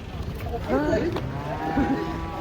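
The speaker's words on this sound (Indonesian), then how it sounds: "Itu sapi ini muncul guys." Cattle moo at a busy market, with a couple of low drawn-out calls rising over a steady crowd murmur.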